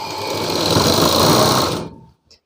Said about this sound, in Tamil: இதே போலவே 2 சைடுமே நான் தையல் போட்டுட்டு காமிக்கிறேன்.